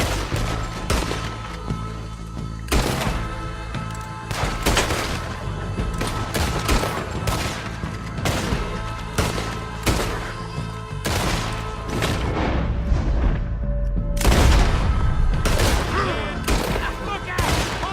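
Gunfire in a Red Dead Redemption 2 gunfight: a dense, continuous string of loud close shots and booming blasts, irregular and overlapping, with voices shouting now and then beneath the firing.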